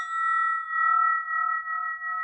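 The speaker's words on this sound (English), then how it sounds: "we call this a spinning bell." A handheld spinning bell rings with a steady, sustained pure tone that swells and fades in slow, even pulses, clear and alone with no talking.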